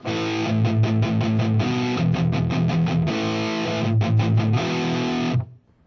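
Electric guitar played through a Boss MT-2 Metal Zone distortion pedal set with a duller high end, loud saturated chugging riffs with palm-muted rhythmic bursts and sustained chords, ending in an abrupt cutoff.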